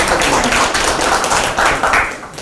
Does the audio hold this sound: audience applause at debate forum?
yes